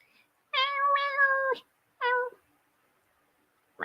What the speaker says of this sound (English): Yoko, my cat is meowing you to the screen.